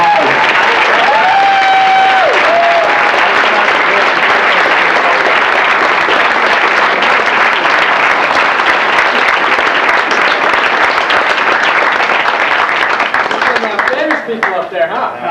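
A large crowd at a BotCon 2004 convention panel claps in long, steady, loud applause that barely dips for about fifteen seconds, with a voice rising over it early and the clapping thinning toward the end.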